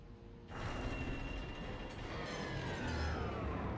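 A loud mechanical rumble starts abruptly after a quiet moment and keeps grinding on steadily, with clanking and whirring like heavy machinery moving.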